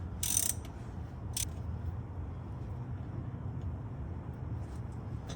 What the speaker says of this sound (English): Just put the socket back on it and then loosen it up a little more.